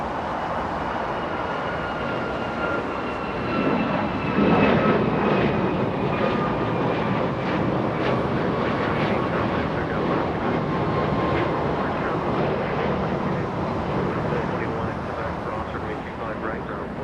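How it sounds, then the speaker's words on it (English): A Qantas Boeing 787 Dreamliner airliner landing on the north side at Los Angeles International Airport, a steady loud jet engine roar swelling and holding, with people talking over it. "QF17, a Dreamliner. Landing in the north"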